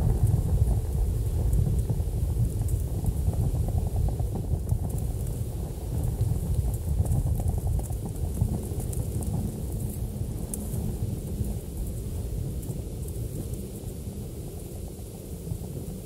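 Heavy wind roars and rumbles steadily in The Scream VR game, a dense low storm wash with gusting texture throughout, loud and continuous with no voices.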